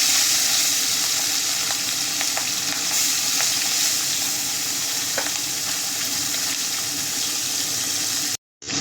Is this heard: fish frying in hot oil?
yes